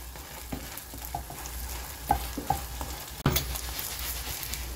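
A zucchini and egg pancake frying in a pan, with a steady quiet sizzle broken by a few soft clicks and taps, and no talking.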